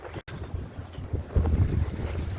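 Strong wind gusts across the microphone while a sailboat heels under sail at close to seven knots, a steady loud roar with buffeting rising toward the end, no voices.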